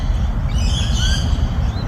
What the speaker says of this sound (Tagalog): Fish hunter yan. Yung ibon na yan.